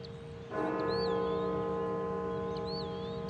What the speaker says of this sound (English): visitors pause to listen as the funerary bell rings at the Washington National Cathedral